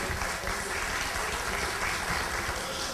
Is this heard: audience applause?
yes